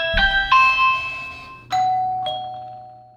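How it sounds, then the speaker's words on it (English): A doorbell chime for a battery-powered Nest doorbell rings inside a home, giving two bright electronic ding-dong tones, then another pair, each note ringing out and fading, loud and clear with no voices. "press the doorbell and see if there is a chime that rings anywhere within our home"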